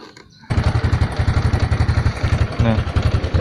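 A Honda Karisma X motorcycle engine starts abruptly and settles into a steady, loud, close idle with a rapid regular putter, a brief rev rising midway through.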